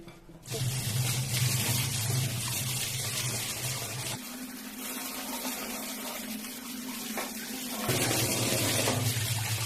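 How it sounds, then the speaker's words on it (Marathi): Kharshing bean pods, a wild monsoon vegetable, being rinsed under a running tap, giving a steady loud rush of water into a sink that changes tone midway as the pods shift under the stream, with no talking. "खरशिंगाच्या शेंगा आपण पहिल्यांदा धुवून घेऊयात"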